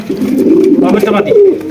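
A pair of Lakkha pigeons cooing close by in soft, throaty warbles, with a voice mixed in.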